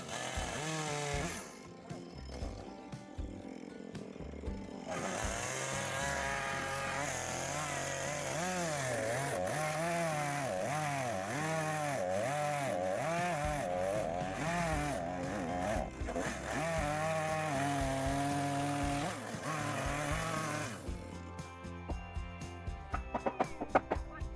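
A chainsaw with a dulled, nail-damaged chain runs steadily for a long stretch while cutting wood, its engine wavering up and down, briefly idling at the start and fading near the end.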